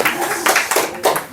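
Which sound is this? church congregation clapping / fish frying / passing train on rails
church congregation clapping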